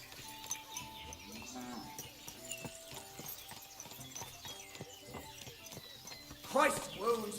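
Horse hooves clip-clop at a steady walking pace in Kingdom Come: Deliverance II, amid a busy town scene, with voices talking over it and a brief louder burst near the end.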